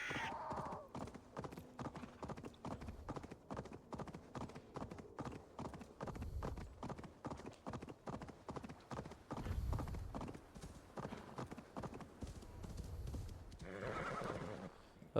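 Horse hooves clip-clop in a steady, quick rhythm throughout, broken by a couple of neighs, in the video game Assassin's Creed Valhalla; the sound is fairly quiet and continuous, with no talk over it.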